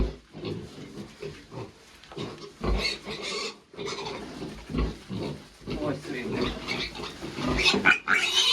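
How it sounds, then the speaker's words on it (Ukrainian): Pigs on a farm, where piglets are being weaned, grunt in short bursts close by, mixed with people talking throughout. "Бачите, це свинка"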